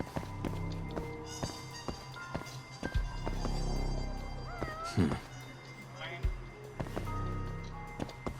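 A cat meows in the video game Judgment, several short mews scattered over game footsteps and background sounds, with voices talking around them.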